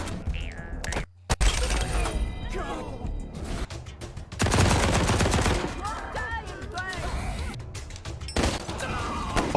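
Bursts of gunfire in the post-apocalyptic video game Wasteland 3, rapid volleys and sharp shots with crashing impacts, broken by brief gaps, with someone talking over parts of it.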